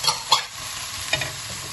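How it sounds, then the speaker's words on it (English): A spatula stirs chili in a sizzling frying pan, with two or three quick bright metallic scrapes over a steady fry hiss, close and moderately loud. "Now while we stir, we quickly add in the chili."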